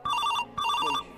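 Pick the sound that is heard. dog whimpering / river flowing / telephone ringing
telephone ringing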